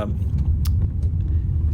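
A car driving through Washington gives a steady low road and engine rumble from inside the cabin, with a few faint clicks and rattles above it.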